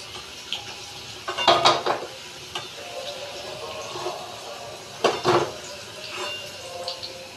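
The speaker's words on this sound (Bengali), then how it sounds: "আলুটা আমি হালকা করে ভেজে নিলাম" Potatoes frying lightly in a pan for a rohu fish head and potato curry: a steady sizzling hiss with a couple of louder bursts of spatter and utensil clatter against the pan.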